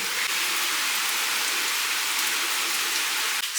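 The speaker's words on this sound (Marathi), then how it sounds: "तिरपा पाऊस पडला की ह्याच्यावरून पाणी असं ओघळतं" Steady, dense rain pattering hard on a metal roof sheet, a continuous bright hiss close by with no voices.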